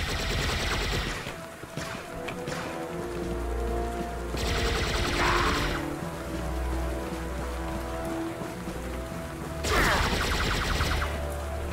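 Video-game gunfire comes through as rattling bursts and crackle spread over a steady noisy background, fairly faint, with a few louder volleys and no talking.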